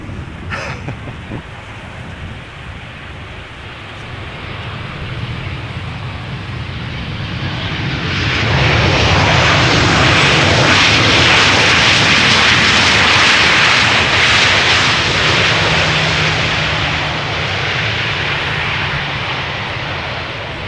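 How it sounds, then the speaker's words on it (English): A passenger airplane passes overhead at Amsterdam Schiphol Airport, its engine roar swelling from a distant rumble to a loud, broad overhead rush over about ten seconds, then slowly fading. "I hear an airplane that just passed by overhead, but I'm unable to see it"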